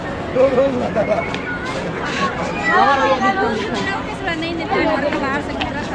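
Crowd chatter at a busy New Year gathering, with many overlapping voices forming a continuous babble and a few nearer voices standing out.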